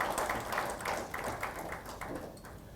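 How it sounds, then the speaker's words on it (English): Applause at a corporate Kaizen award ceremony for the winners: a faint, continuous wash of many hands clapping from a distance, steady and even throughout with no voices over it. "So big applause once again for all the winners."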